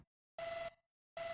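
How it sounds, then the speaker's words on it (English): Telephone ringing in the Blue Stinger video game: two loud electronic ring bursts separated by a short silence, clear and alone with no voices. "No one picks up their phone anymore."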